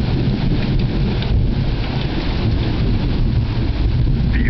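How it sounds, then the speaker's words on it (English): Steady heavy rain and rolling thunder during a powerful lightning storm in Riverside, California, a continuous loud rumble and hiss filling the whole stretch without any voices. "Feel the thunder."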